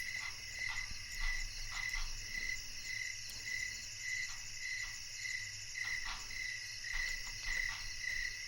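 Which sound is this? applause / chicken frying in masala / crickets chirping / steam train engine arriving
crickets chirping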